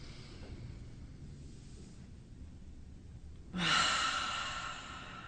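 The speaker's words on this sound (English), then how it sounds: "Now let's take a deep breath." A deep meditative breath during a guided chakra exercise: a quiet drawn-out inhale through the first seconds, then a louder, breathy exhale starting near the end and fading, with no talking.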